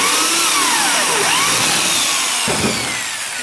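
A power tool cuts a hole in PVC pipe, its loud, steady whine sweeping up and down in pitch as the cutter works through the plastic, close and alone for a few seconds.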